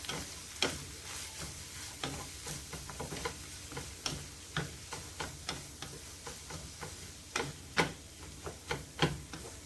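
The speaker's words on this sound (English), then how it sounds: "Next is the cabbage is gonna go in there. Cabbage goes in there." Shredded cabbage stir-frying in a hot pan for a low-carb shrimp cabbage fried rice, with a steady sizzle broken by repeated sharp scrapes and taps of the utensil in an irregular rhythm.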